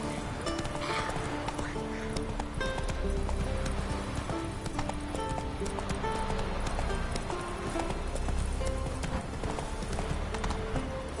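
Roach, a horse in The Witcher 3 video game, gallops with a steady, close run of clip-clop hoofbeats and a brief whinny, layered over dense in-game background sound.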